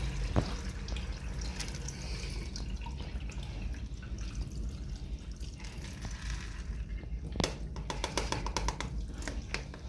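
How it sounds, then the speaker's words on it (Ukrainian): Water drained from soaked wheat grain trickles and drips steadily from a container, with a few louder splashy pours and clinks near the end. "зливаємо нашу воду з зерна"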